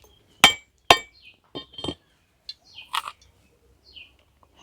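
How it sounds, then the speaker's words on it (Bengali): A coconut being cracked open, heard as two sharp, close hard knocks followed by a few softer taps and clinks, with faint bird chirps in a quiet background. "এবার নারকেলটা ফাটিয়ে নেব।"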